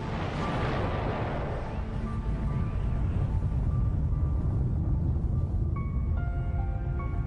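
A deep, rumbling explosion evoking the Big Bang, a loud roaring blast that swells and sustains as a heavy low rumble, with faint ringing tones emerging near the end.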